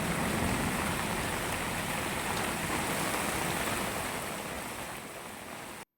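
Rainwater rushes in a steady, loud wash after heavy rain at Thiruvenkadam, pooling like a pond on the road; the dense roar holds level throughout, then cuts off abruptly at the end.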